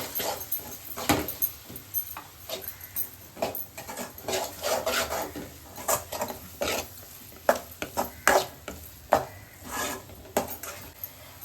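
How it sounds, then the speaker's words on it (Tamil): Masala frying in oil and stirred with a spoon for goat head curry, uneven scraping and clinking strokes against the pan over a steady low sizzle, close and moderately loud. "மசாலா போட்டது எல்லாம் பார்த்தீங்கன்னா எண்ணெய் பிரிஞ்சு வந்துருச்சு நல்லா வதங்கி"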